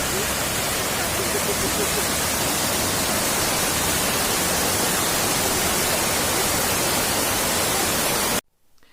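A waterfall and river seen from a viewing platform give off a steady, dense rushing roar that fills the sound evenly, then cuts off abruptly near the end.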